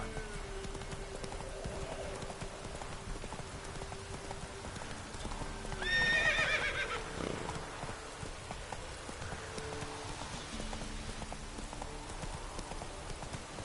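A horse gallops with steady clip-clop hoofbeats in the video game Witcher 3, with a single brief whinny partway through over a constant rain-like background, moderately quiet throughout.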